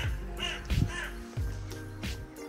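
A crow caws several times in short harsh bursts at moderate distance, heard outdoors near a go-kart track over a low background hum.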